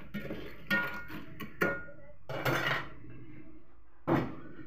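Sautéed crabs being stirred in a cooking pot, with a utensil clattering and scraping against the pot in a few separate bursts. The clinks are close and moderately loud, with quiet gaps between them and no talking.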